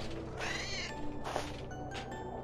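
A cat meows in the video game Slay Bells, a drawn-out wavering cry followed by a shorter one amid a steady game background hum, with no talking over it.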